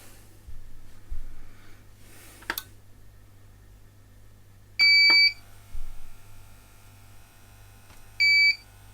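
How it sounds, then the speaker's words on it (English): Repaired Dynamix UPS1700 uninterruptible power supply running with a low steady electrical buzz throughout, broken by two loud, sharp beeps about three seconds apart and a few soft clicks. "Still buzzes a little bit, but it's better than it was."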